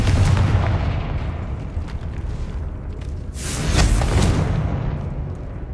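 A Confringo spell explosion in Hogwarts Legacy, a booming blast over busy game noise that swells again into a second burst partway through, with no talk.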